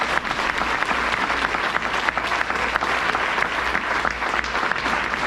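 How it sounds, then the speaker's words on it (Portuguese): A church congregation applauding during a celebration service, sustained loud clapping from a crowd filling the whole stretch evenly. "Vamos aplaudir o Senhor Jesus."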